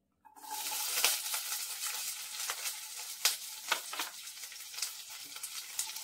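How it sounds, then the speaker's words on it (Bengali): Chopped onions hit hot oil in a wok for a jackfruit chilli dish, a sudden bright sizzle that holds steady, punctuated by scraping stirs and small clicks, close and fairly quiet. "এবারে আমার কড়াইয়ের মধ্যে যে তেলটা আছে তার মধ্যে আমি দিয়ে দিচ্ছি কেটে রাখা পেঁয়াজ।"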